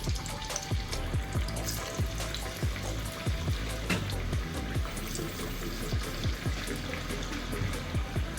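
Onion vada batter frying in hot oil in a Kerala-style kitchen, a steady bubbling sizzle with crackling pops, close and continuous with no speech.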